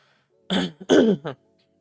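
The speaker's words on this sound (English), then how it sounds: "I don't know why I need to clear my throat so much today" A person clears their throat in a few short, rough bursts, close and fairly loud, with quiet before and after.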